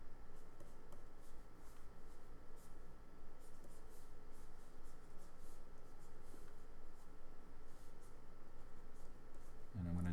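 Pencil scratching steadily across paper while sketching a head for a dynamic action figure pose, a continuous soft scraping texture close to the mic that runs throughout, with no voice heard.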